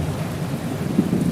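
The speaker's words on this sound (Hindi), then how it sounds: "बिजली कड़कने पर मैंने" Thunder from a lightning strike rolls low and heavy over steady rain, a dense continuous rumble close by for just over a second, used as a dark horror-story effect.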